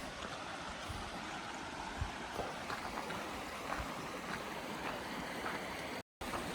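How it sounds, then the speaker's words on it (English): Running water near a waterfall under a bridge in Bryce Canyon National Park gives a steady, broad outdoor rush that continues without a break, with no talk over it. "really the highlight is the running water and the waterfall"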